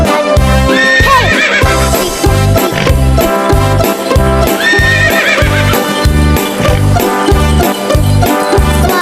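A horse neighs and its hooves clip-clop in a steady rhythm as it pulls a delman carriage, loud and continuous against a backdrop of music.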